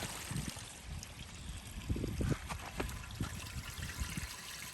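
Water rinsing through an RV sewer dump hose at a campground, a close uneven gurgling trickle with bubbly splashes that swells and eases over a few seconds.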